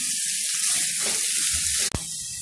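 Tomatoes and curry leaves stirred in a hot pan for Kerala-style prawn roast, a broad steady sizzle with soft stirring movement and one sharp knock near the end.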